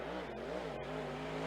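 Dirt super late model race car running a qualifying lap on a dirt track, a steady engine drone with rising and falling revs through the corners, fairly distant and even in loudness, with no talking.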